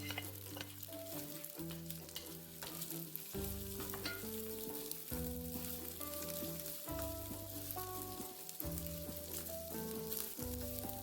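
Eggs and rice stir frying in a hot pan for crab fried rice give a continuous sizzle and hiss with occasional scraping stirs, heard under steady background music without speech.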